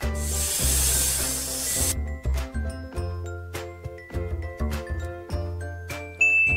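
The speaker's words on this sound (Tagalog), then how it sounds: "Ahas" A sharp, breathy hiss like a snake sounds for about two seconds, followed by soft jingling and tapping sounds with low thumps.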